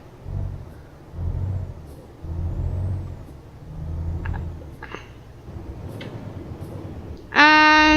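A truck in Euro Truck Simulator 2 rumbles along with a low engine drone that swells and fades in waves, then a sudden loud air-brake hiss at the end.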